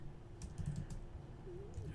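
Quiet clicking keystrokes from a computer keyboard tap out text in a short, irregular burst, close by and alone with no talking.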